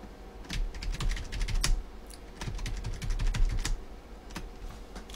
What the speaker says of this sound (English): I'm going to type in a few Z's,